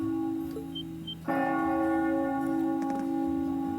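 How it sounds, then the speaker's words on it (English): A bell in a Trails of Cold Steel video game cutscene tolls at five o'clock, a sustained ringing tone that swells in and lingers with a long, steady decay, heard alone without talk. "That bell ringing must mean it's 5 o'clock, which means it's almost... Reen?"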